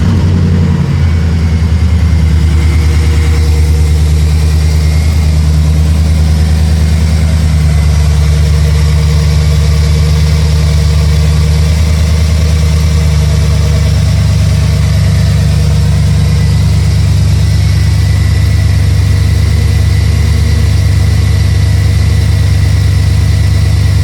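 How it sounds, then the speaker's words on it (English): A 2008 GMC Sierra pickup's 5.3-liter V8 cold-starts and settles into a loud, steady, rumbling idle that continues without a break, echoing in a garage. "You'll be able to hear the engine cold and hear the exhaust here in the garage"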